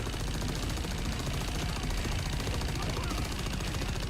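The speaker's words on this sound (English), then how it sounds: "One thing I love about the cannon is the audio, like the sound when you're standing near it." A cannon in Helldivers 2 fires a dense, rapid, clunky stream of booming shots close by, sustained without a break, with some voice mixed in.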